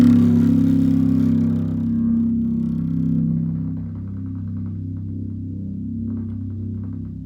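A bass guitar sounds a deep note that rings out and slowly fades, with faint, clicky overtones, clear and alone.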